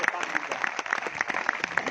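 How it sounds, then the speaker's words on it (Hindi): Rhythmic crowd clapping at a political rally speech, evenly spaced claps roughly three per second, mid-level and steady, with a murmur of voices beneath. "जोरदार ताली बजा के इनका स्वागत करिए।"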